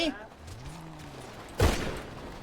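Video game gunfire bursts out in a short, loud volley late in the moment, standing above a low steady game-background hum and tonal effects with some voice.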